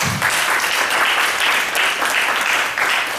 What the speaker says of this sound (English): Please, let's clap for her again.